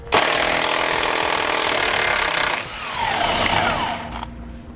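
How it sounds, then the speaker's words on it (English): A power tool spins a 19mm socket to back a bolt out of a truck frame, a loud close whine that drops off and then returns with a rising, gradually fading tone. "grab a 19mm socket and we can pull it out"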